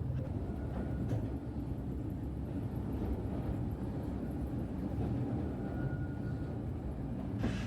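Steady, close rumble of the small underground Mail Rail train in London running through its tunnels, a continuous low roar with rattling that stays loud throughout, with no one talking.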